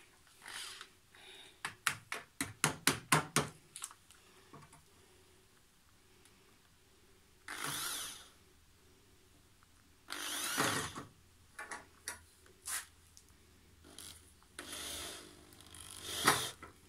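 A power drill whirs in short bursts, some rapid stuttering pulses and a few longer runs, with quiet pauses between.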